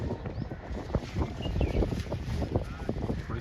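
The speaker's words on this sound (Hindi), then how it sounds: "थोड़ी सी हवा तेज़ हो गई है।" Wind picks up at an outdoor kite-flying match and buffets the microphone in low, rumbling gusts. Faint voices sit underneath.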